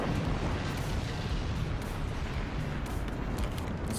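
Dense, continuous barrage of mortar and warhead blasts in the Forts strategy game, a loud rumbling wall of overlapping booms with no pause across the whole stretch.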